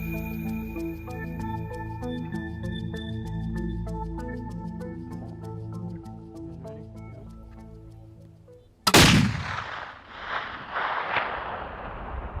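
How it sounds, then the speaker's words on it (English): A single sharp, loud rifle shot from a Husqvarna during an elk hunt in the Arizona high desert, cracking out near the end and trailing into a short outdoor echo after a stretch of quieter background. "I'm dialing in the Husqvarna and getting ready for the shot."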